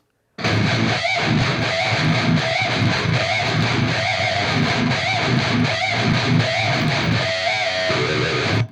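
Heavily distorted electric guitars play a dense, steady riff with chugging rhythmic accents, loud and continuous throughout.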